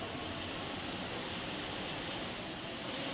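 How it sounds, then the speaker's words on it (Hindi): Heavy monsoon-season rain pours down in Jorhat, Assam, in a dense, unbroken hiss, steady and loud with no voices over it. "पूरा देख सकते हो कितना जोर शोरों का बारिश आ रहा है।"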